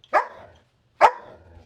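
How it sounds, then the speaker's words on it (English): Two sharp dog barks, about a second apart, ring out close by in a home kitchen with no one talking over them. "Guess the dog has something to say about that."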